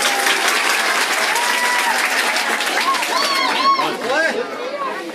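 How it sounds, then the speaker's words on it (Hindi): Children and an audience at a school gathering clap together in a dense, steady burst of applause, with voices and chatter rising over the clapping as it fades near the end. "ताली बजाओ"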